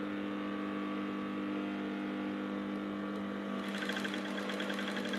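An electric sewing machine runs in a steady whirring hum while stitching the side seam of short pants, its needle chatter growing faster and more rattly toward the end, with no speech.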